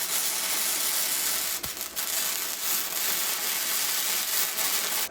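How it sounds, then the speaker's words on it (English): A Vevor MIG-200 flux core welder running a bead down a seam joining two steel plates, a continuous close crackling hiss with a brief pop partway through. "I'm just going to try welding down this seam and joining the two plates"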